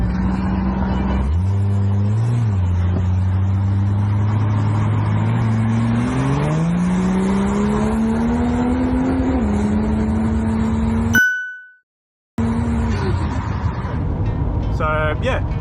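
Ford FG tray-back ute running on LPG, its engine droning steadily inside the cab while cruising on the road, pitch stepping up through gears, with a brief cut of silence near the end.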